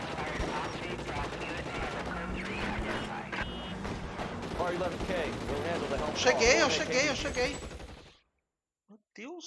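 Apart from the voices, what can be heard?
gunfire in the video game L.A. Noire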